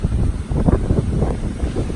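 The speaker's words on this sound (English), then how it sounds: "Ooh, big waves!" Big ocean waves at a beach beside a coconut plantation, a steady rushing surf roar with heavy wind buffeting the microphone throughout, loud and close, with no talking.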